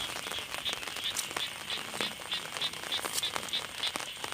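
Steady rain falls outdoors in rural Thailand as a continuous dense patter, with faint rhythmic chirps, likely frogs, repeating through it and no voices.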